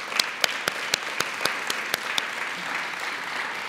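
An audience at a university awards luncheon applauds the organising team, a broad steady wash of clapping with several sharp, regular claps standing out up close, the sound thinning toward the end.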